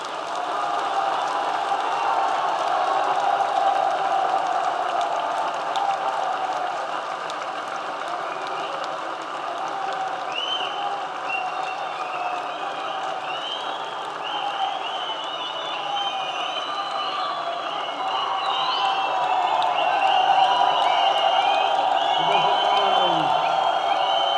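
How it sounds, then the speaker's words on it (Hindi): Crowd at a workers' convention in Karachi claps and cheers steadily for the whole stretch, a continuous wash of many hands with scattered shouts, fairly loud and sustained. "एक जोरदार नारे और जबरदस्त तालियों के क्लैपिंग करके उसको पैगाम दे दें"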